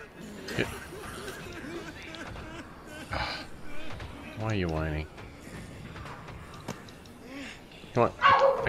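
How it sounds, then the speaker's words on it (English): A dog barks a few times indoors in the background, with yips and whimpers, mixed with video game sounds and someone talking. "I apologize for my dog barking."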